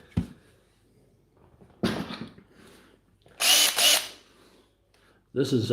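A Makita power tool from a used tool haul, fitted with a new set of brushes, revs in three short, loud whirring bursts with quiet gaps between them, and someone briefly speaks between them.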